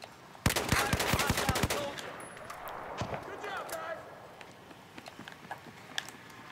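Carbine gunfire in Battlefield 4 gameplay with the ACE 21 CQB: a fast burst of sharp shots near the start, then scattered single shots and distant battle noise fading under the mix.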